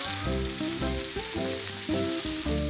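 Chicken pieces fry in a pan with a continuous loud sizzle, while a low, repeating tonal hum rises and falls in regular pulses through the hiss.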